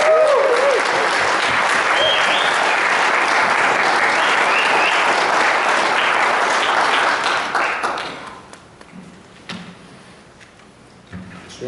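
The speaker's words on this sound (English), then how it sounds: "So let's give a round of applause for Travis." An audience applauds a student honored as Student of the Month, steady dense clapping for about eight seconds that then fades to scattered claps and room noise.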